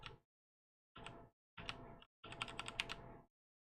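Keys on a computer keyboard clatter in four short bursts separated by silences, the last burst a quicker run of distinct clicks, close and fairly quiet with no talk.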